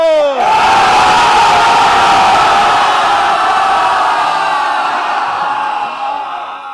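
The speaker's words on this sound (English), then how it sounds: "One part, open up. The second part, scream." A conference audience at a business mastermind event screams together on cue, a loud sustained crowd roar that starts abruptly, holds steady for several seconds and tapers slightly at the end.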